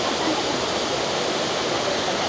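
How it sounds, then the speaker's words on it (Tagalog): Antipolo falls pours as a continuous broadband roar of falling water, steady and loud with no breaks or voices. "gusto naman namin makita yung pinaka falls"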